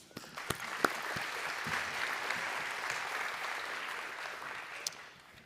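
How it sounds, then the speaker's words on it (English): An audience at a State of the City 2024 event gives steady, sustained applause to recognize a sponsor, a dense wash of clapping across the whole stretch with a few sharper individual claps standing out. "Please help me recognize it with a round of applause."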